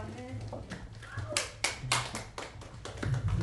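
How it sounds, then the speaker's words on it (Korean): A church congregation at a Sunday service claps hands in a run of sharp, uneven bursts that grows denser toward the end, with voices speaking over the start. "박수 한번 치십시다."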